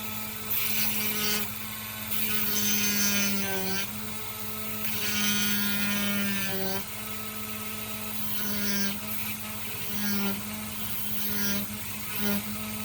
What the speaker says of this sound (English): Hole, Dremel with cutoff wheel.